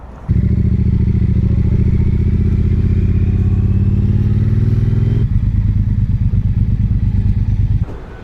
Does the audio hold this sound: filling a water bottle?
no